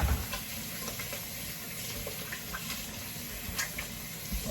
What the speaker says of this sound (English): let me go ahead now and wash my hands